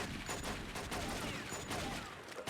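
Loud rapid gunfire from the video game True Crime: New York City, bursts of shots crowding together in a continuous barrage with heavy low-end thump and no talk.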